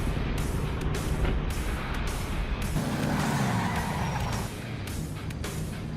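Drag racing cars in GTA 5 Online roar past with engine noise and brief tire squeals, loud and continuous, the sound dropping slightly near the end.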